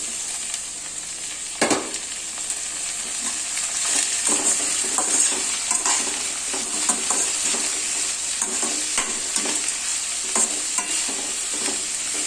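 Shredded cabbage sautéing in hot oil with mustard seeds, chillies and onion for poriyal, with a continuous bright sizzle under scattered spoon scrapes and knocks against the pan, close and loud, no voices.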